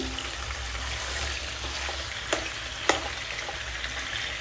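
Onions fry in plenty of oil for biryani, a steady, close hissing sizzle with a couple of light stirring clicks and no talk.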